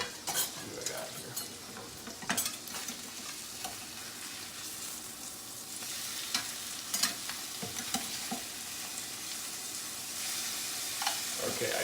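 A halibut fillet sears in a hot pan, a steady close sizzle and fry running the whole time, with occasional scrapes and stirring clinks of a utensil against the pan.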